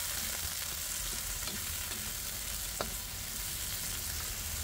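Prawns frying in a hot pan while pumpkin in coconut milk is cooked, a loud continuous sizzle with occasional sharp crackles and stirring clicks, close and without talk.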